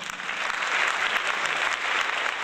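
A dense, steady burst of applause from an audience at an Ohio turfgrass foundation event, many hands clapping together at an even volume throughout.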